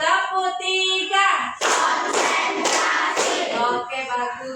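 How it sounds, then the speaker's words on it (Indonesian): A classroom of pupils claps together in a counted rhythm of three sharp group claps, set between spoken lines from a teacher and class. "Tepuk 1, tepuk 2, tepuk 3"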